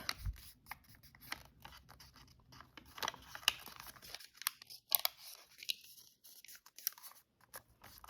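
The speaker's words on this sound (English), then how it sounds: "we're going to open these little curtains, open the kite, and fold it back against itself." Paper being creased and folded into an origami crane, close up and quiet, with soft crinkles and crunchy scrapes scattered irregularly and no talking.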